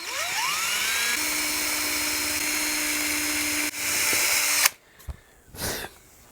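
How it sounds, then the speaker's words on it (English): A loud electric drill with a 2 mm bit whirs steadily for several seconds boring a small hole in a guitar body, its pitch shifting as it bites in, then cuts off, followed by a few faint handling noises. "So we need a 2 millimeter drill bit"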